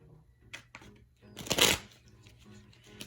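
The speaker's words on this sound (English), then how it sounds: "Okay, I'm going to shuffle these just a little bit more." Cards are shuffled in a few quick riffling bursts, soft papery flutters with a louder burst in the middle, close and quiet.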